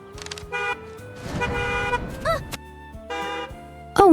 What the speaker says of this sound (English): I hear a car horn.